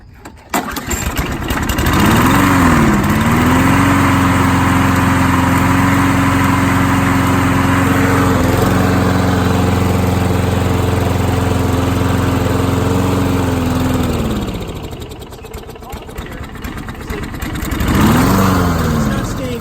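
A lawn mower engine running with its auto choke propped open: a loud, close, steady engine drone that revs up, holds for about twelve seconds, sags and dips, then revs back up near the end.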